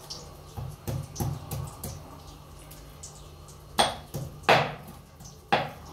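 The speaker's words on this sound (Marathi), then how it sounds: "हे आलं धुवून चांगलं ठेचते आहे" Fresh ginger being crushed by hand, a series of irregular dull thumps and pounding strikes, several soft at first and then a few sharper louder blows, close by with no talking.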